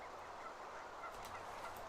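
A turkey gobbles in the video game Dune Awakening, a short, faint, rough burble heard over a steady wash of background noise.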